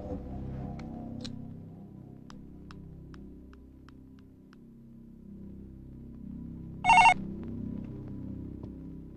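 A telephone in a Kannada film scene rings once with a short, sharp burst near the end, over a quiet, steady low hum.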